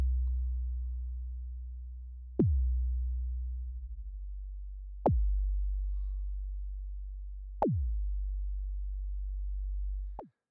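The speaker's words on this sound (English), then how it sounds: "create a pitch envelope for our sound, resulting in really nice kick drum sounds" Synthesized kick drums made with a pitch envelope through the Flow 3 auto-dynamic filter: four clean, deep thumps spaced evenly, each opening with a sharp downward pitch sweep into a long low sine tone.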